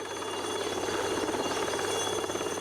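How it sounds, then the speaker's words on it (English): A helicopter returning to pick people up in a remote jungle, its steady rotor thrum and engine whine holding loud and constant throughout, with no speech. "Our helicopter did return as promised."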